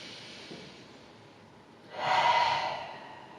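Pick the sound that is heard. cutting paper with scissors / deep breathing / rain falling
deep breathing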